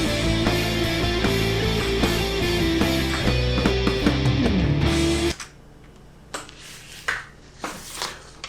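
A recorded song plays back with layered tones and rhythmic hits, fairly loud, then stops abruptly about two thirds of the way through, leaving quiet room sound with a few faint knocks.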